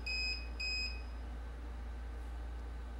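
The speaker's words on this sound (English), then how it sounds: "it beeps to tell us that it's lost power" A UPS battery backup gives two short high-pitched electronic beeps in quick succession on losing power, then a steady low hum continues with no further sound.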